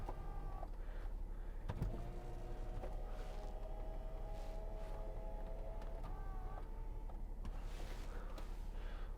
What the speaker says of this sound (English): It's 3-position electric memory seats here